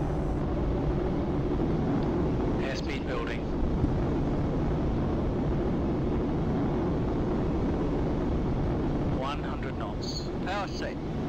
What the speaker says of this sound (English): Slam the throttles forwards. On come the reheats.